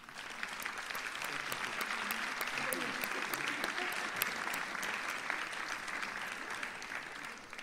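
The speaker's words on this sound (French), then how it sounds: "Je pense qu'on peut les applaudir à nouveau." Sustained applause from a conference audience greeting the welcome speakers, a dense even wash of many hands clapping at steady loudness for several seconds with no talk over it.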